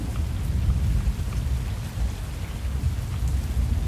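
Steady rain pours during a tornado-chasing storm, a dense, even rush with heavy low rumbling underneath, constant and fairly loud throughout with no voices.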